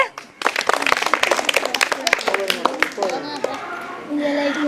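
Schoolchildren clapping quickly for a correct quiz answer, a burst of close, dense applause with children's voices calling out over it before it fades into chatter.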